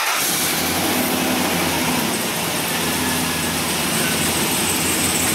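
A Dodge Dakota truck engine starts and settles into a steady, loud idle, a continuous rumbling drone with broad mechanical noise that holds evenly throughout, with no voices.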